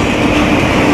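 A train rolls loudly and continuously along a railway track in flood-hit Muzaffarpur, with the rumble and clatter of passing rail cars close by.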